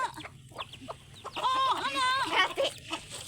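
Chickens cluck and squawk inside a chicken coop, with several short clucks followed by a longer, rising, warbling call; close and moderately loud, with faint background noise.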